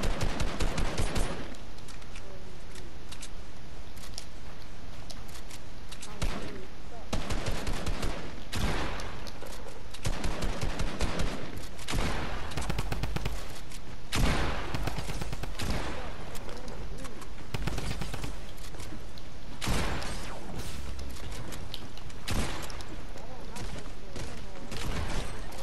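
Rapid gunfire from a first-person shooter video game rattles in dense automatic bursts and fusillades nearly throughout, loud and close, with a player talking over it.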